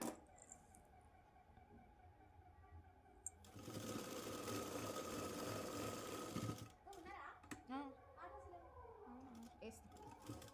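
A sewing machine runs in one sustained whirring burst, stitching a folded hem on a Punjabi dress, with someone speaking before and after the stitching.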